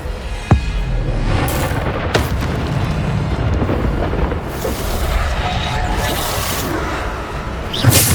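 The Descendo spell cast in the Hogwarts Legacy video game: a loud, continuous rumbling blast with heavy booming impacts and sharp bursts near the start and again at the end, dense and close.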